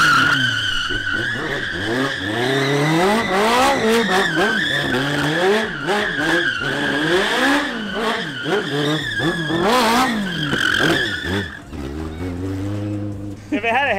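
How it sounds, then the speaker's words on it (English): A tiny racecar powered by a motorcycle engine revs hard with rising and falling harmonic sweeps as the wheels spin, close and loud throughout, with a lower idling drone near the end. "Hearing a bike motor with wheel spin"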